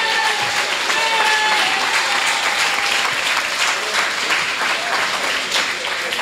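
An audience at a speech by a politician from St. Kitts and Nevis gives a loud, sustained round of applause, dense and steady from start to finish, with no voices over it.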